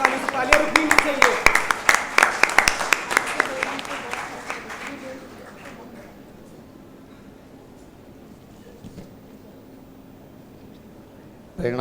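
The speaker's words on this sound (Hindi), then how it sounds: "सारे विनर्स को कांग्रेचुलेट करें, जोरदार तालियों से" Applause for winners at a birthday celebration event, a crowd clapping loudly for about five seconds before fading into quiet room noise, with a sharp sound returning at the very end.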